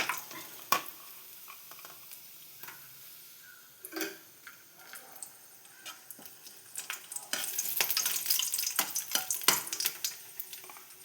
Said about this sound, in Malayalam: ഞാൻ ലേശം നെയ്യ് ഒഴിച്ചു കൊടുത്തേക്കണം കേട്ടോ അതിൽക്ക് അണ്ടിപ്പരിപ്പ് ഇട്ട് കൊടുക്കുക